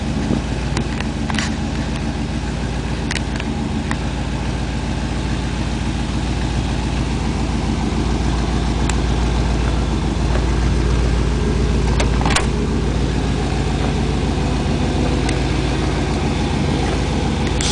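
A 1962 Chevy with a 283 V8, apparently boosted, idles steadily close by, a loud, even low rumble with a few faint clicks over it and no talk.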